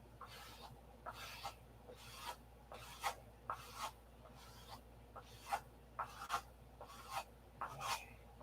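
Wooden inboard wingtip hollowed out by hand while mounted on a plate, giving a series of short scraping, rasping strokes in an uneven rhythm, fairly faint and close, with no talking.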